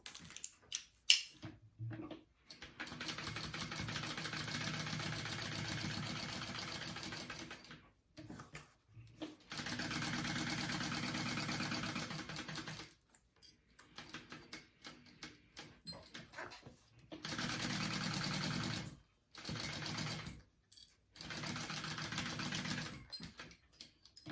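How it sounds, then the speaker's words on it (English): A sewing machine stitches a quarter-inch seam on a mini crossbody bag, running in steady whirring bursts of several seconds each, broken by short pauses, close and loud with no talk. "you're going to sew that with a 1/4 inch seam allowance"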